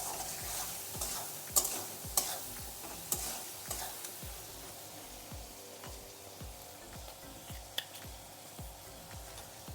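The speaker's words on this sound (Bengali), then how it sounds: "দিয়ে দেবো হলুদ গুঁড়ি, আর লবণ দিয়ে ভালো করে একটু ভেজে নেব।" Spices with turmeric powder and salt fry for a curry, a continuous sizzle in the pan broken by repeated scraping strokes of a spatula stirring, with a few sharp clicks against the pot.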